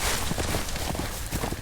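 Horse hooves clip-clop in a Game of Thrones video game, a steady rhythmic walking beat of several hoofbeats heard up close and alone.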